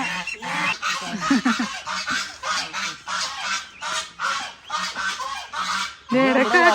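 Repeated loud honking calls from geese or similar fowl, close by, overlapping in an insistent irregular rhythm with no pause.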